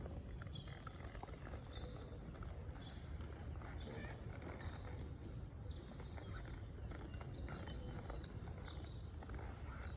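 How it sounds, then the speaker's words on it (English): A horse's hooves clop on the ground in an irregular shuffle as it steps backward, with birds calling faintly in the background and a steady outdoor rumble. "I like my horse to step back and follow me backwards"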